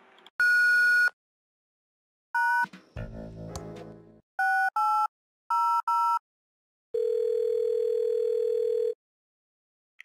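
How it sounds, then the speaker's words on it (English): Answering machine tones from the video game Thimbleweed Park: a sequence of clean electronic beeps and paired dial-like tones, a short burst of noisy static in between, ending in one long steady beep, loud and alone. "Please leave a message after the beep."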